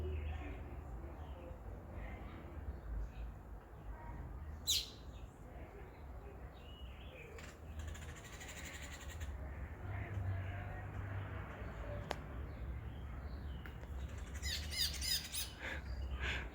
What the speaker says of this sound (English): I love their bird song.